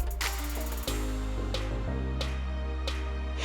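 A sewing machine runs steadily while stitching down a sleeve on a lace sheath dress, its rapid mechanical whir and clatter continuous and close, with a few brief shifts in pitch.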